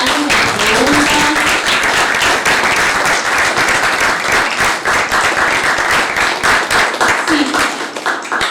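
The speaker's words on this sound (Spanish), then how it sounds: "muchas gracias y un gran aplauso antes de las preguntas" Sustained audience applause follows a talk on theatre production, dense steady clapping filling the room for about eight seconds with a few faint voices mixed in.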